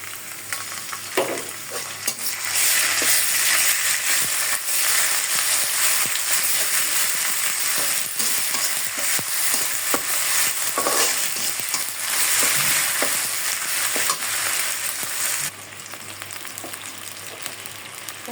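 Ground spice paste of chili, ginger, garlic and cumin frying with browned onions, cinnamon and cardamom for a country chicken and jackfruit seed curry: a loud, continuous close sizzle with stirring scrapes throughout, dropping quieter near the end.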